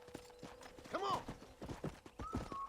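Horse hooves clip-clopping in the video game Red Dead Redemption, a quick rhythmic run of mid-loud hoofbeats with a brief whinny and some talk layered over it.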